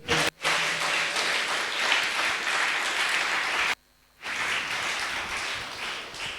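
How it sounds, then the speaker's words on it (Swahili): A church congregation claps together during a service while waiting for a wedding couple, a dense, steady wash of hands that cuts out briefly near the start and again for a moment before resuming just as full. "Pigie Bwana makofi mazuri."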